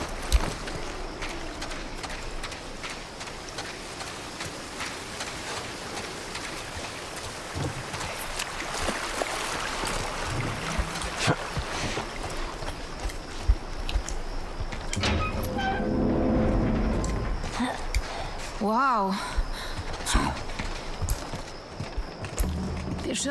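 A boat moving across water in The Last of Us Part I, in a sewer setting, gives a continuous busy wash of sloshing and churning with clattering game sounds layered over it throughout.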